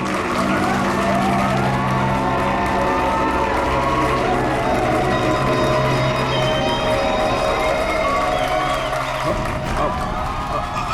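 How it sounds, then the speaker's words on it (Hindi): Studio audience noise with clapping and cheering spreads through a busy room during a CID TV episode, steady and fairly loud, while sustained tones hum beneath. "तालियां!"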